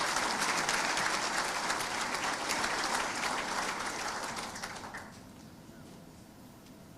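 Crowd applause at a medical awards ceremony hall, loud sustained clapping that fades out after about five seconds into quieter room tone.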